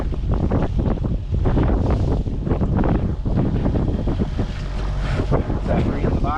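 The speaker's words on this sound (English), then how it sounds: "The wind's picking up a little, isn't it?" Strong wind on Lake of the Woods buffets a fishing boat, roaring and gusting loudly into the microphone with waves slapping the hull, continuous throughout.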